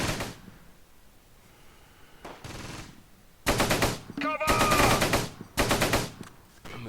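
Bursts of machine gun fire in the World War II strategy game Close Combat: Gateway to Caen, with several loud rapid volleys after a quieter stretch of low rumble.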